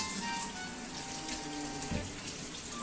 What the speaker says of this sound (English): use cold water. You'll rinse the turkey.